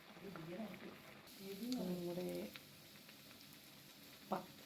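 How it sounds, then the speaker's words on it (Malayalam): Pathal flatbread dough dropped into hot oil, giving a short burst of bubbling sizzle that settles into a steady low fry, with a brief clatter near the end. "തിളച്ച എണ്ണയിലേക്ക് ചെറിയ രീതിയിൽ പരത്തി വെച്ച പത്തൽ ഇട്ടു."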